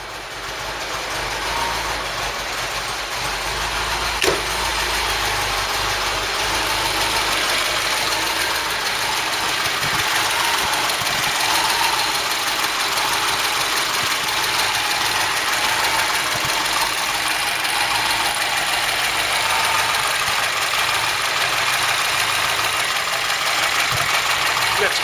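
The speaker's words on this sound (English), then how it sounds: "you'll notice that tick over, not as even as the standard cam" A freshly built engine in a Ford Cortina Mk3, fitted with a non-standard cam, ticks over with a slightly lumpy, uneven idle. It hums steadily and close-up for the whole stretch, with no revving.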